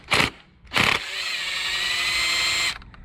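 A power tool works on the carburetor of an outboard motor: two short bursts, then a sustained whirring run of about two seconds that stops abruptly, close and moderately loud.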